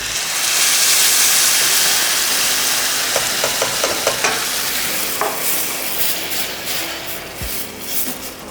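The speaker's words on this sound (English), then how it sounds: "So a really nice tadka or tempering is happening here." Tomato puree hits a hot tadka tempering for pink pasta sauce, giving a loud, continuous sizzling hiss with a few light stirring clicks and scrapes, close up, with no talking.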